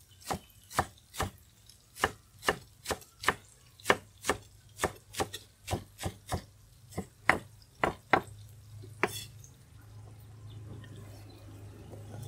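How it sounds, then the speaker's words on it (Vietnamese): A knife chops lettuce on a cutting board for a Vietnamese vegetarian papaya salad, with about twenty crisp, evenly spaced near chops over a low steady hum. After the chopping stops, faint rustling continues. "Mình cắt xà lách nha."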